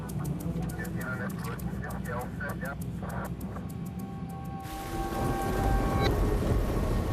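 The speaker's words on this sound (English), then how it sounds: "Rain, wind, and lightning are hammering the runways." A thunderstorm lashes Toronto's international airport, with rain and wind on the runways and low rumbles of thunder, building into a louder, denser downpour partway through, with muffled talk early on.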